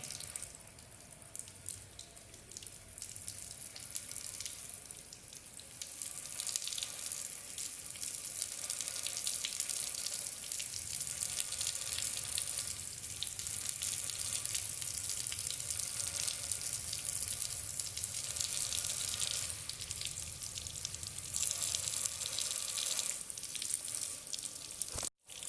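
Water poured onto an unknown salt sample of crystals during a chemical salt analysis, making a steady hissing, trickling fizz that swells and holds for a long stretch before cutting off abruptly.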